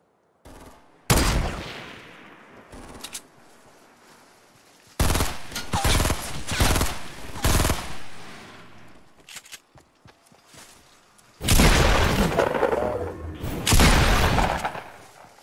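Video game gunfire in bursts: a sharp volley near the start, a longer rattling barrage in the middle and another heavy burst toward the end, with quieter gaps between them.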